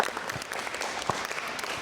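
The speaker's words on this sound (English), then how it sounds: "Give him a big round of applause." School audience at a STEAM academy assembly giving a round of applause, a brief steady patter of many hands clapping, moderately distant and fairly soft, with no talk over it.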